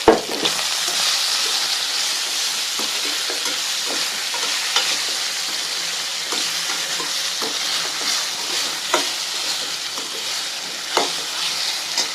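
Country chicken frying and being stirred in a pan for a green chicken recipe, a steady close sizzle with scattered scraping clicks of a spatula throughout, no talking.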